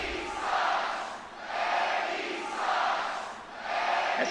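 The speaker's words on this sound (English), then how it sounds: "As the crowd chants, Eddie Guerrero sucks." Wrestling crowd in the WWE SmackDown vs Raw 2006 video game chants in steady repeated swells, each surge about a second long, loud and continuous with no commentary over it.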